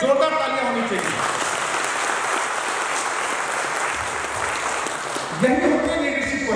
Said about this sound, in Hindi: उन सबके लिए जोरदार तालियां होनी चाहिए